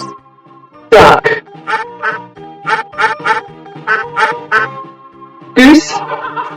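A duck quacking close by: a rapid series of short, nasal quacks in an uneven rhythm, framed by two louder bursts at the start and end.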